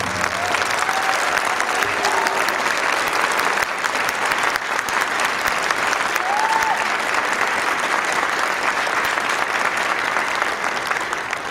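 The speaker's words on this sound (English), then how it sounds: "Ladies and gentlemen, how about a solo round of applause for our host," Sustained audience applause at a band festival gala concert, a steady dense wash of clapping from a large crowd that fills the whole stretch without pause.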